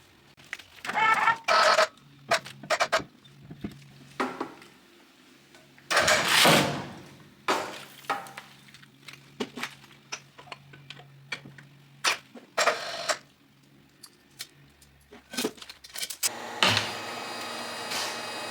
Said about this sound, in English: the first job you've got to do when you use any lathe is change the chuck on it. So we're going to whack this face plate on.